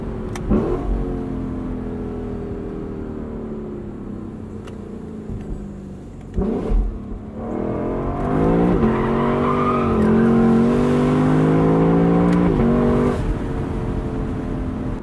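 A 2021 Lexus LC 500 Convertible engine revving and accelerating hard, its pitch climbing through gear changes, loud and close with a rising growl.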